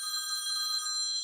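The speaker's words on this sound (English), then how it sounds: "Emergency phone call." A telephone rings once with a short, steady electronic trill, bright and fairly quiet, and no one speaks over it.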